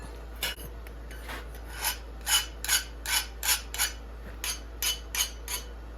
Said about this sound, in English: So you can hear that file is skating.